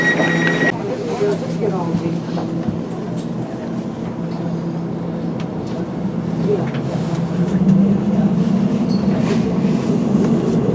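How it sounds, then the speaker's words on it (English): A London Underground train heading to Heathrow Terminal 5 rumbles steadily along the track, with a rising tonal whine partway through and a voice speaking over the running noise. "This is the train to Heathrow"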